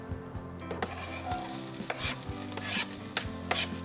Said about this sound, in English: Next, I'm gonna put some onions in.